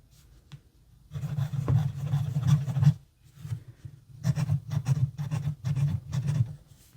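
The nib of a Wing Sung 601 Vacumatic fountain pen scratches across slightly toothy paper in a quiet room, giving soft close-up rasping strokes in short bursts separated by brief pauses.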